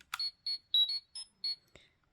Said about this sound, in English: it literally beeps the communicator noise, which is so cool